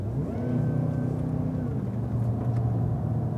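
A Cadillac CTS-V on a racetrack, braking in a straight line into a corner, gives a loud, continuous engine drone whose pitch wavers and shifts steadily throughout, close by with no voices.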